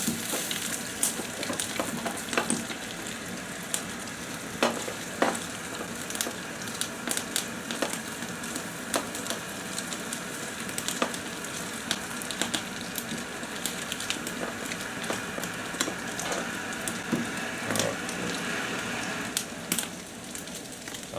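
Bacon sizzles and crackles in a pan on a camp stove outdoors, a steady dense frying hiss with scattered sharp pops and occasional stirring scrapes, close and continuous throughout.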